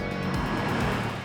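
Engine of a 2018 Porsche 718 Cayman GTS rumbling steadily from inside the cabin while driving on an Australian country road, mixed with constant tyre roar, a continuous low drone with no talk.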